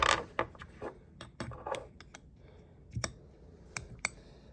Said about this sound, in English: So a washer is going to go in here.